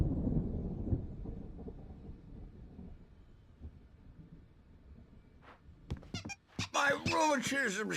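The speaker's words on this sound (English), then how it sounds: "There's a storm coming." Thunder from an approaching storm in the video game Alan Wake: a low, heavy rumble swells in the first second and fades into a quiet, murky background, followed by a voice speaking near the end.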